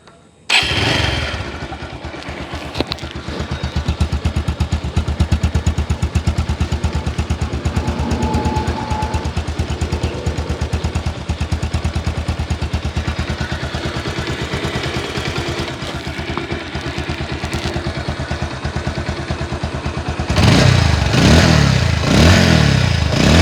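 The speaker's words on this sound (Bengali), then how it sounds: "গাড়ির ইঞ্জিনের সাউন্ড যদি আপনাদেরকে শোনানোর চেষ্টা করি" A Bajaj Pulsar 150 Double Disc motorcycle engine idles with a steady, loud, close-up chugging putter, holding an even rhythm for most of the stretch before a sharper burst of revving near the end.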